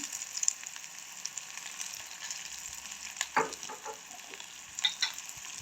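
Onions with mustard seeds and fenugreek frying in oil for a soya meat curry, a steady close sizzle with scattered crackles and a few louder pops and stirring clicks, no voices.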